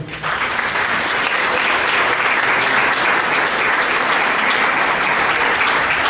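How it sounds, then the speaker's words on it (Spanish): A church congregation at a Spanish-language service claps together in dense, loud applause that holds steady from start to finish. "Denle un aplauso a Jesús."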